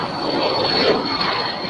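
A departing airliner at LAX gives a steady, broad engine roar with a faint high whine, continuous and moderately loud throughout, no voices.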